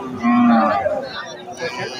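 A small Holstein Friesian bull moos once, loud and close, with a long low call at a cattle market, followed by faint background market murmur.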